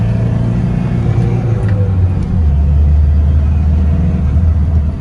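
A Tata 2.2 diesel engine is revved with the throttle, a close, loud mid-pitched drone that shifts down in pitch partway through and then holds steady.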